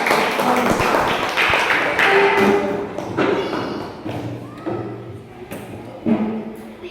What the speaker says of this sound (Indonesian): Tepuk tangan untuk anak-anak Tila.